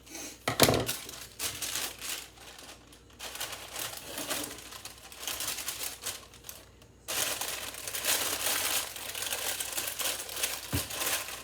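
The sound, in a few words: crumpling paper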